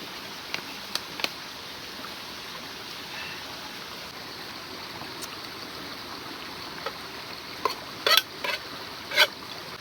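A spring-fed stream flows steadily through a forest at dusk, its soft broadband wash continuous throughout, with a few brief clicks and knocks near the end.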